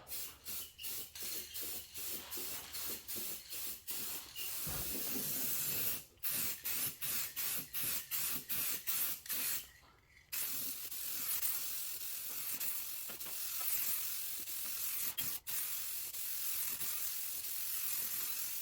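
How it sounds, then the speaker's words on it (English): Metallic gold aerosol paint sprayed onto a car fender, loud close hissing bursts in quick repeated pulses at first, then long sustained sprays with brief gaps, with no talking. "let's go ahead and get the metallic gold and start spraying"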